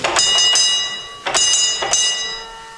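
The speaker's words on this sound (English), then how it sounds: "We still use this bell system today," A mine bell signal system rings in short metallic strikes grouped in a pattern, with a few quick rings, a pause, then more, each ringing bright and close before decaying.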